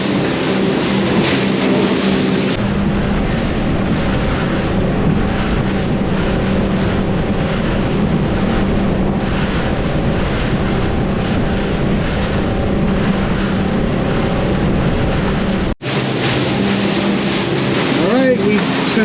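A boat motoring across choppy open ocean toward Bimini, a steady loud roar of engine, hull slap and rushing water with wind buffeting the microphone throughout, ending in a brief dropout.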